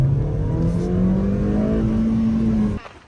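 A car engine revving as it drives, a steady loud drone with a slowly rising pitch, then cutting off abruptly near the end.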